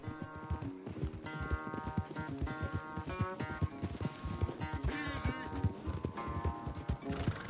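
Galloping horses race in Red Dead Redemption 2, their rapid hoofbeats pounding in a continuous rhythm with occasional neighs, set against game music and brief character speech.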